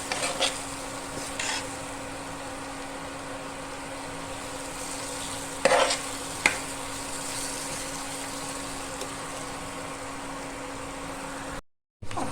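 Masala for Nilgiri chicken sautés in a pan with a constant soft sizzle and hiss, broken by a couple of brief scraping stirs, then a short drop to silence near the end.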